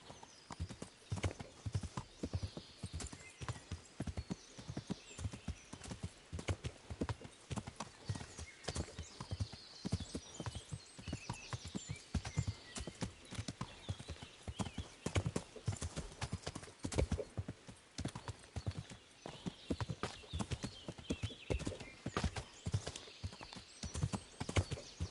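Horse hooves clip-clop in a steady walking rhythm on a dirt path in the video game Kingdom Come Deliverance, close and continuous throughout with faint background ambience.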